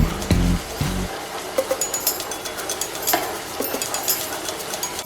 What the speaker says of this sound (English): Now it is time to stir fry the blended ingredients, aka sambal.